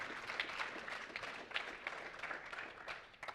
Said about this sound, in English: Big hand for the young gentleman.